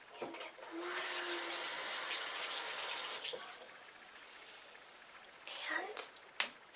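Water runs from a bathroom tap into a sink for a few seconds, soft and close, then stops, followed by quiet handling clatter and faint breathy sounds in a hushed setting.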